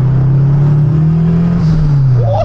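Turbocharged Honda K24 engine pulling hard at full throttle, a steady loud drone with the pitch rising and then easing slightly, close up and continuous, with a brief higher whine near the end.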